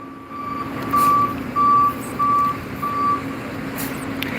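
A tow truck hauling a car away sounds its reversing alarm: four evenly spaced, loud electronic beeps over a low idling engine rumble, with no talk.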